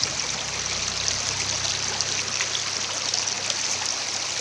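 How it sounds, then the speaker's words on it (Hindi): Clear stream of water flowing steadily at a temple fair site, a constant close bubbling and trickling rush with no voices over it. "ये दे पानी बहत है, पूरा पानी साफ है इसे बढ़िया।"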